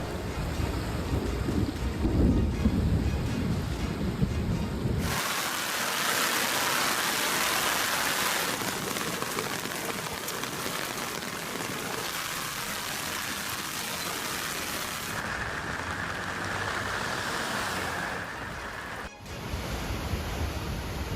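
Heavy rain during a landslide disaster in Japan: a continuous broadband downpour hiss that shifts in tone across cuts between scenes, with no distinct thunder claps standing out.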